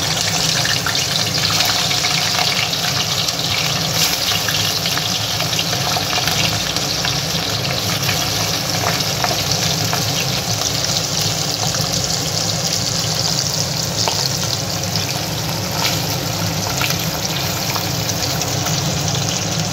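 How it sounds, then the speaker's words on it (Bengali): Tangra fish fry in hot mustard oil in a pan, giving a loud, steady, close sizzle that carries on unbroken and alone throughout. "তেলটা গরম হয়ে গেছে, এই সময় আমি মাছগুলো ধীরে ধীরে ছেড়ে দেব।"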